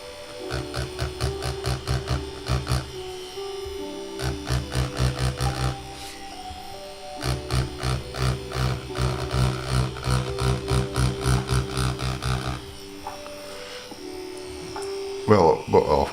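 A tattoo machine buzzes in rhythmic bursts as it stipples dots on practice paper, a close mechanical whir pulsing on and off with short pauses between passes.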